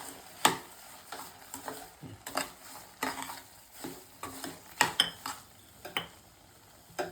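A spoon stirs carrot halwa with sugar in a pan over the stove, producing irregular scraping strokes and soft sizzling, with a few sharper clicks against the metal.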